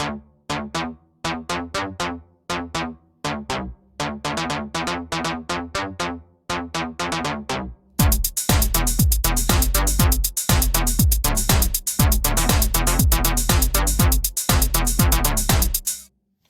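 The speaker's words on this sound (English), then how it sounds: "I call it copper bass just because it's got this kind of bright metallic texture to it" An FM copper bass patch from a modular synth, bright and metallic, plays repeated rhythmic notes that start sparse and plucky, then turn denser, heavier and brighter halfway through, with no talking.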